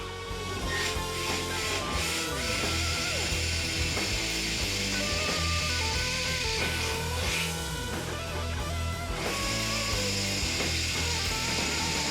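A hand ratchet clicks in rapid, continuous bursts while fitting license plate mounts onto a car. Mechanical clatter and tool noise run steadily throughout, close and fairly loud, with no speech.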